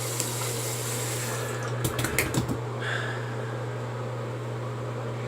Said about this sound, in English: Warm water splash. Cold water.